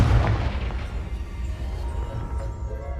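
Confringo fire spell explosion in the video game Hogwarts Legacy, a deep booming blast that hits loudly at the start and decays into a long rumbling tail.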